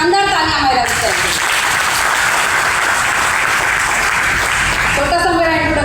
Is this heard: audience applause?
yes